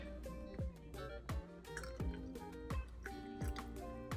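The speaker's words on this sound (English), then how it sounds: "And then we're gonna add this beautiful orange blossom water." Orange blossom water is poured into a drink in small splashes, a run of close, bright drips and liquid plops landing in an even rhythm at low volume.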